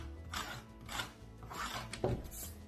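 A blade's back edge is drawn across a surface to smooth it off, giving several soft rasping scrapes in a steady rhythm with one sharper scratch near the end, close and fairly quiet, with no talk.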